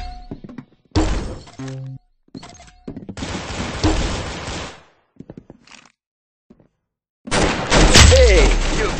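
Gunfire sounds from a video game come in several harsh bursts separated by gaps, as a headshot lands. A voice talks between the shots.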